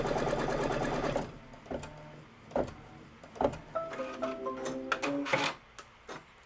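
Sewing machine running a tack-down stitch line on fabric for a Kimberbell Cup of Cheer project, a steady fast mechanical whirr at first, then slower ticking stitches with short pauses, close by.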